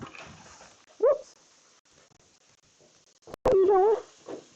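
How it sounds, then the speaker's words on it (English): A dog indoors gives a short whimper, then after a pause lets out a louder, longer whining cry, close and clear over a quiet room. "Excuse me, crazy dog."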